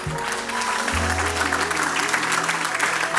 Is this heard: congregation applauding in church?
yes